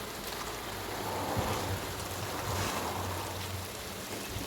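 Chunks of young jackfruit go into hot oil and spices cooked down with goat fat, giving a continuous close, even sizzling hiss with a faint low rumble beneath and no talking.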